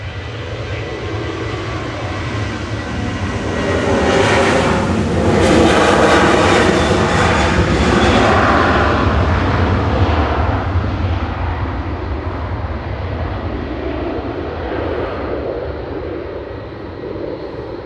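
A TUI jet airliner bound for Bodrum takes off from Manchester Airport, its engine roar swelling to a loud peak as it passes and then fading gradually into a long rumbling tail.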